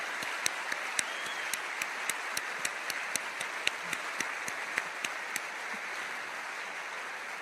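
Sustained audience applause from a seated crowd at a talk, a steady wash of many hands clapping with a few sharper, louder claps standing out through the whole stretch and no voices over it.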